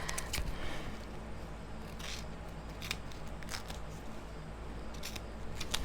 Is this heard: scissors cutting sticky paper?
yes